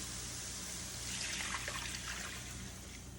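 Hot broth poured from a container into a pot of vegetables, a soft steady trickling splash that swells midway and then tapers, faint and close.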